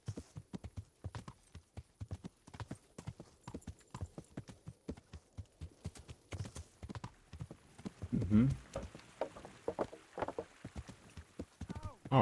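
Steady clip-clop of horse hooves on hard ground, an even rhythmic clatter that grows louder and closer toward the end.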